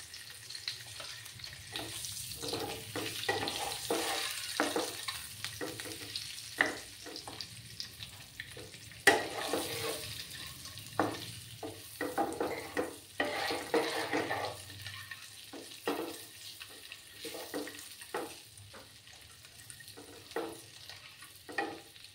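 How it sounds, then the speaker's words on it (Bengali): Eggs fry on low heat in a pan with Kashmiri chili powder, giving a soft, continuous sizzle broken up by frequent scraping and stirring clicks, fairly close and moderately quiet, with no talking. "দিয়ে আমি ডিমগুলো ভেজে নেব। চুলার আঁচটা কিন্তু আমার কমানোই আছে।"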